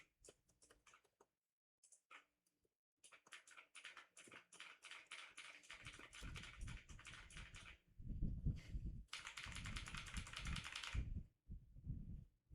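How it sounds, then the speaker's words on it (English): Fast, dense keyboard typing in bursts that grows louder and busier midway, with keys clattering quickly and heavy low thumps mixed in near the end. "She is spamming the keyboard."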